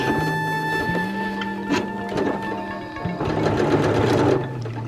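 A sewing machine runs steadily while back stitching at the top of a dress sleeve, with a whirring motor hum that briefly pauses and shifts pitch as the stitching reverses, close and loud, with no voices.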